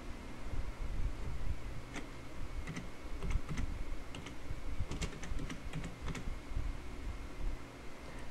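A blog title is typed on a computer keyboard, heard as faint, irregular clusters of quick key clicks over a quiet background hiss.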